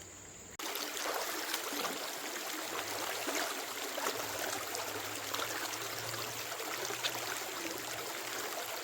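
Water flowing through a gold prospecting adventure sluice on a low glacial stream, a steady close rushing and trickling wash that starts abruptly and continues without pause.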